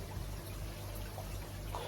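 Water pours steadily to top up a koi pond during treatment with potassium permanganate for flukes, a continuous broadband trickle and splash that stays even and moderately loud for the whole stretch with no talking.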